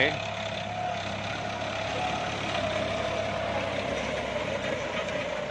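An Iseki NT554 farm tractor engine runs in a steady, loud drone with a low rumbling hum that holds without a break, apparently near a clay paddy field.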